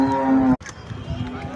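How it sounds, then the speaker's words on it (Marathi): A red Kandhari cow at the Malegaon fair lets out a single loud, close moo with a steady tone that cuts off abruptly, followed by fair crowd noise. "हे लाल कंदारी गाय एक नंबर आहे"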